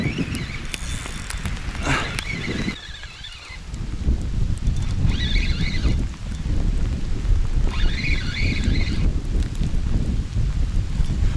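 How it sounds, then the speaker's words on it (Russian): Rain pours down on a riverbank fishing spot during a thunderstorm, a loud, steady hiss with gusts of wind buffeting the microphone and a few higher chirping bird calls cutting through at intervals. "А дождик-то усиливается."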